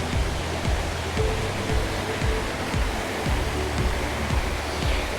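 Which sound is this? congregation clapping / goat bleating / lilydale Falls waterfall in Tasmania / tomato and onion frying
lilydale Falls waterfall in Tasmania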